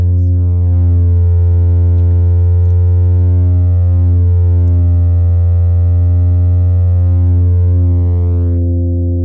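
A steady, loud synthesizer drone with a sharp, ringing resonant sweep moving slowly through its upper tones, sustained without pause.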